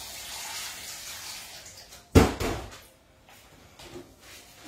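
Kitchen items being washed under a running tap in a home sink, with a loud splash of water and clatter partway through, then quieter trickling and handling sounds.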